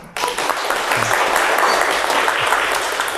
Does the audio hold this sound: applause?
yes